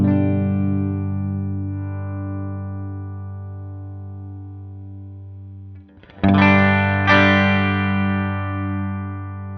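An electric guitar runs through an AMT F1 preamp into a Pangea cabinet simulator: a long sustained distorted chord rings and slowly fades, then fresh chords are struck loudly near the end, with no voices.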